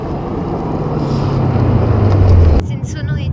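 A Ford Mustang Shelby 350GT engine roars loud and close with a steady low rumble that swells over a couple of seconds, then cuts off sharply, leaving only wind noise.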